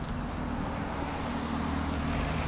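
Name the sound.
BMW car driving past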